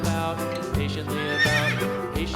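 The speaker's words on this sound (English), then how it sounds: "horse" A horse whinnies loudly and shrilly against a steady musical backing, the neigh rising and trembling in the middle of the sound.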